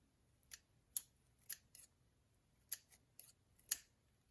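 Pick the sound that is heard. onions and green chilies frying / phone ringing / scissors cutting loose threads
scissors cutting loose threads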